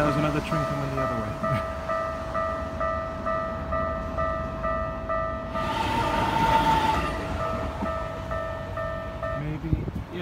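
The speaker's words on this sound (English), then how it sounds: "Now there's another train coming the other way." A train rumbles past a railway crossing in Japan while the crossing bell rings steadily. The rolling noise swells midway and then eases as the bell keeps clanging.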